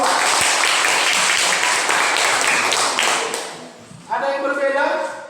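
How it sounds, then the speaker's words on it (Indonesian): A classroom of students clapping for a student group, dense close applause for about three and a half seconds that fades out, followed by a teacher speaking. "Tepuk tangan untuk kelompok 2."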